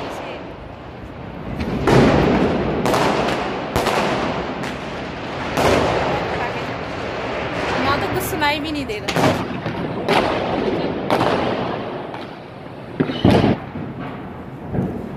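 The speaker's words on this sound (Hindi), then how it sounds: "फटाके चल रहे हद से ज़्यादा फटाके बहुत तेज़ पटाखे चल रहे" Loud Diwali firecrackers burst repeatedly at irregular intervals, sharp cracks and booms echoing, with people talking between the blasts.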